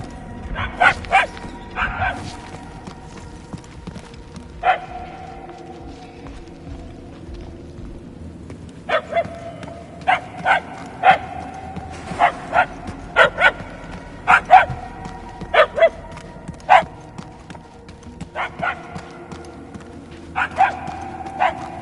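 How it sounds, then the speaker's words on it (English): Puppies bark in the video game Guardians of the Galaxy, sharp, clear yips and bow-wows in clustered bursts that grow more frequent and louder toward the end, over a low ambient game backdrop. "The barks are getting louder, at least."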